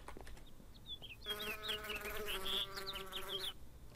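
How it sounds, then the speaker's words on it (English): A bee in modded Minecraft buzzes steadily and fairly close for a couple of seconds, its drone rising in then cutting off, with faint chirps around it and no voices. "Okay, I guess that bee's not going to be aggressive."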